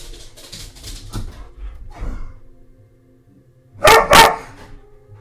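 Dogs in the Phoenix Point game give two loud, close barks in quick succession near the end, after quieter grunts and breathy sounds.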